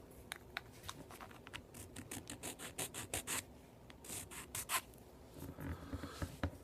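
A file scrapes back and forth along a plastic 1941 Plymouth model car body in quick, close, rhythmic strokes. The rasping comes in uneven bursts of short pulls with brief pauses between them.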